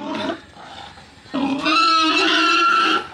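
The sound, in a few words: mother pig squealing while being caught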